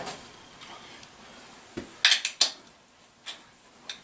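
Loose steel bolts dropped into a metal pan during the teardown of a 1964 Evinrude 40 hp outboard motor, a few sharp, bright metallic clinks close by in a quick cluster and then scattered, with no talk.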